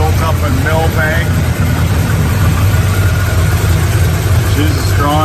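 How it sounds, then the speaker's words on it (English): The built-up engine of a Dodge Li'l Red Express tribute truck, fitted with an Edelbrock carburetor, idles with a steady low rumble, while someone talks nearby over it. "There's your engine, built up in Millbank."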